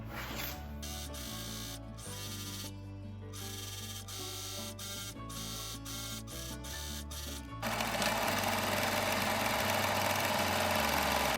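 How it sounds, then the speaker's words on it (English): A serger overlocks the hem of a sewing-pattern dress, its steady mechanical hum running throughout with brief stop-start pauses, then a louder, denser whir near the end. "I'm gonna go ahead and serge this and then top stitch that down"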